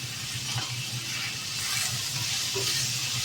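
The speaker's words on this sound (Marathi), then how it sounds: "टोमॅटो पण आपण छान परतून घ्यायचे." Tomatoes sauté with salt in a pan over a high gas flame for veg kheema, giving a steady, fairly soft sizzle with a low hum beneath it and no talking.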